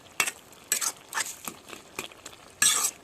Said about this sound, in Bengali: আমি ভালো করে সবজিগুলোকে একটু এরকমভাবে ঘাঁটি মেশাই নিচ্ছি